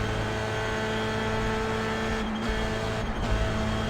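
A Dallara F3 single-seater racing car in iRacing at Lime Rock Park, its engine held at full throttle in a loud, steady high-pitched drone with two brief dips as it shifts.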